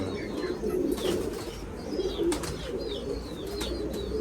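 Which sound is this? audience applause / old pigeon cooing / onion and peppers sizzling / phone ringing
old pigeon cooing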